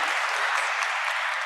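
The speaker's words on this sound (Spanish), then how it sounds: "Un aplauso." Audience applause at a conference session on social economy, a brief, dense burst of many hands clapping at an even level from a large crowd.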